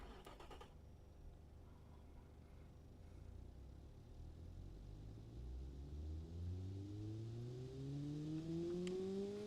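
Engine of a Honda Civic-like car in the game Automation, run with an automatic gearbox, droning low and smooth as it climbs steadily in pitch through repeated gear-shift sweeps, fairly quiet and alone.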